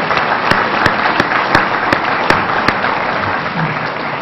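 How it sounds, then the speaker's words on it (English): Crowd applause at the 47th annual Telegraph Herald First Citizen award ceremony: loud, dense clapping from a large audience, with a few sharp claps ringing out above the wash before it begins to thin. "you can give a round of applause to everybody now"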